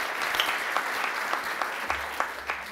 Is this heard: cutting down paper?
no